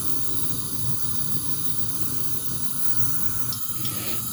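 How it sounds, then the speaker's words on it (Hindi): A gas stove burner turned up to full flame gives off a steady, even broadband hiss that holds for several seconds, close and continuous, with a few faint clinks near the end and no talking. "अभी मैं फ्लेम फुल करूँगी ऑन"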